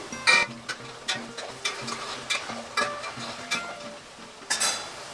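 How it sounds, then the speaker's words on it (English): Shrimp and potatoes stirred in a pot, with repeated rhythmic scraping strokes about twice a second over a light sizzle, plus occasional clinks of the utensil against the metal, close and clear without talk. "Take a second and just move my potatoes around."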